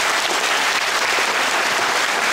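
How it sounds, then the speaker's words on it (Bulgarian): An audience at a film screening applauds the National Theatre team: dense, steady clapping from a large crowd, continuous and even throughout, with no talking over it. "Аплодисменти за тях."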